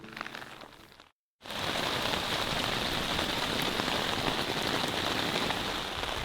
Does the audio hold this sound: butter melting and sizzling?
no